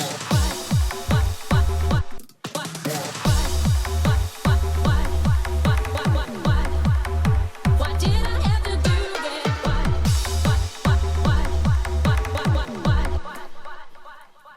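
A loud, driving electronic drop with heavy kick drums and thick bass, missing its top layer, pounding steadily with a brief break near the start, no vocals.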